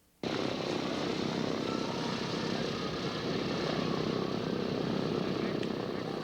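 Steady, loud propeller engine drone of a vintage warplane at the National Warplane Museum in Geneseo, starting abruptly and holding an even, close roar throughout with no break.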